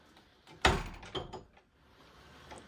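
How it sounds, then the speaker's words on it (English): An old door in an abandoned 164-year-old stone farmhouse in the woods swings and bangs shut with a sharp knock, followed by a couple of softer knocks and creaks as it settles, fairly close. "That door is just gonna keep closing. It won't stay open. I still hear the door moving."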